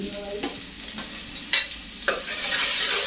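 Onion, ginger and garlic paste fries in a pan with a steady sizzle, interrupted by several brisk scraping strokes of a spoon stirring, the hiss swelling louder at the end.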